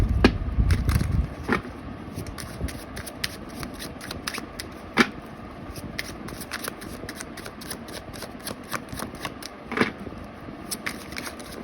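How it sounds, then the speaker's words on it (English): Tarot cards being shuffled by hand, a steady riffling and sliding of the deck close up, with occasional sharper card snaps and no voices. "Okay, I get multiple cards here."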